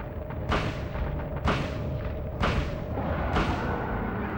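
Four heavy, booming gunshots from a gun in Silent Hill, spaced about a second apart, each a sharp close blast with a short rumbling decay over a steady low background hum.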